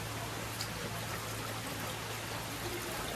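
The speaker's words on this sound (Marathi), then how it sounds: "पातेल्यात आता मी आगळ घालतलं आणि त्याच्यात पाणी ओतलेलं" Water is poured into a pot holding tamarind, giving a faint, steady trickling splash that runs evenly throughout.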